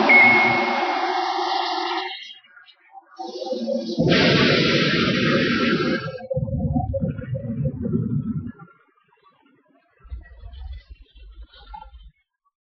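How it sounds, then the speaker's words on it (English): Ghostbusters proton pack weapons firing with crossed beams, rendered as loud crackling, buzzing blasts with a bright electronic whine, ending in a rough pulsing rumble and then a fainter low burst before silence. "They all fired their weapons."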